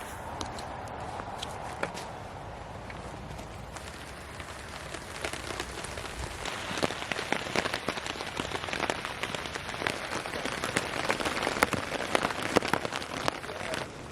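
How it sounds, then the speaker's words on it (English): Steady rain drumming on a camping tarp in the Scottish Highlands, a dense close patter with sharper individual drops that grows heavier partway through, continuous with no talking. "As you can probably hear on the tarp, I'm pretty tarp bound at the minute because the rain's coming down."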